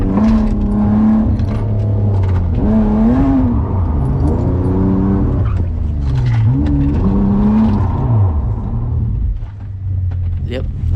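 BMW E36 engine revving hard while drifting, a loud, continuous engine note that rises and falls in repeated sweeps as the revs climb and drop, with talking over it.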